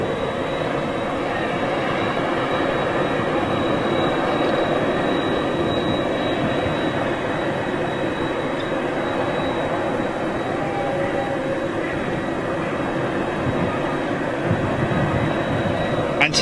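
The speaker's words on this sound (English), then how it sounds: "We've got an A350 taxiing towards us" An Airbus A350 taxis at Manchester Airport, a steady, broad jet engine whine and rumble holding level throughout, close and constant, with a faint high tone above it.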